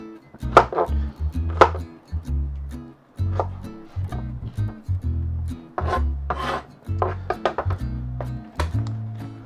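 A knife dices an onion for lasagne on a cutting board: quick, irregular chops and rasping scrapes sound up close with brief pauses between them.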